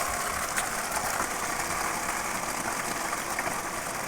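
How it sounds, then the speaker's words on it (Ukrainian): Water transfer pump driven by a 120 W motor, running steadily with a continuous broadband whir and hiss, fairly even and close, no talking. "Дивіться, як качає."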